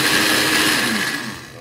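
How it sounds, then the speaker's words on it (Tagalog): A kitchen blender grinds dry oatmeal into powder, a loud steady whirring roar that runs continuously and eases off slightly toward the end, with no talking over it. "i-blender na po natin yung ating oatmeal"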